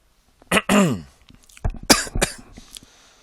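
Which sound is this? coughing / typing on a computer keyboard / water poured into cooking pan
coughing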